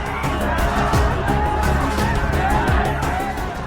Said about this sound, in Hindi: चिराग पासवान को देखने के लिए लोगों की भारी भीड़ उमड़ पड़ी।